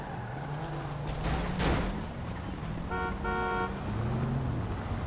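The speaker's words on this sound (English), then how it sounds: "There's a silver car that's just flown through the checkpoint." A silver car races through a checkpoint in GTA V, its engine droning and shifting pitch close by, with a brief double horn toot midway through and a whooshing pass.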